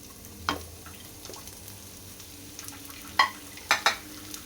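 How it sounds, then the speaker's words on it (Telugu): Onions frying in a spoonful of oil in a pan, a faint low sizzle underneath with several sharp scraping stirs and clinks of a utensil against the pan, loudest near the end. "ఆనియన్ వేసుకొని వేయించుకోవాలి"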